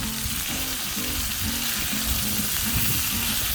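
Pickle-juice-brined chicken pieces fry in a hot pan with a dense, loud, continuous sizzle and faint scraping as they are flipped; no voices.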